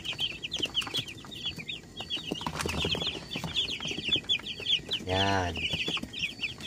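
Many chicks in a brooding area cheep and cluck constantly in high, busy peeps, close up, while an adult hen's throaty cluck rises briefly near the end; a voice speaks a single word.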